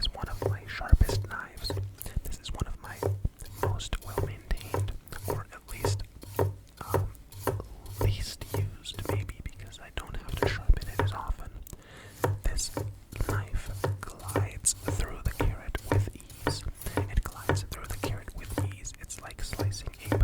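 One very sharp, well-kept kitchen knife slices through a peeled carrot on a board. Close, steady, rhythmic crunching cuts run throughout while a voice whispers over them.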